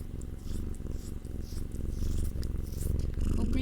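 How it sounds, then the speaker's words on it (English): Sakura the cat purring loudly and close up, a deep rumbling purr that pulses with each breath and swells louder on the exhales, with no talking. "And she's a big purr."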